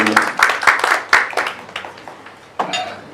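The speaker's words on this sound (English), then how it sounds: "A round of applause to Bernard." Audience at a press club luncheon applauding a speaker, a close, uneven burst of clapping that thins out and then briefly picks up again.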